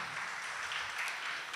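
An audience applauds a speaker at an Engineers Day event, a steady wash of clapping that holds at an even level throughout.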